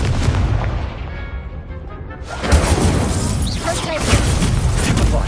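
An Incendio fire spell goes off in Hogwarts Legacy, a sharp whooshing burst of flame about two seconds in, followed by crackling, roaring combat noise and impacts that stay dense and loud throughout.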